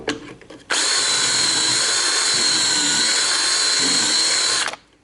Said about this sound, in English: drill out that side